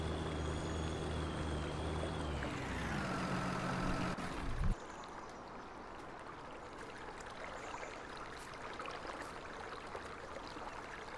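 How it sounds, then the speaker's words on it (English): Tractor engine in Farming Simulator 19 on PS4, on the Lone Oak map, drones loudly and shifts pitch as it revs, then cuts out abruptly, leaving a steady wash of soft water-like noise. "Probably can't hear it over this loud tractor."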